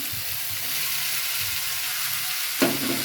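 Purple flat beans sauté with tomato in a hot pan, giving a steady close sizzle with soft stirring scrapes and a sharper clatter near the end.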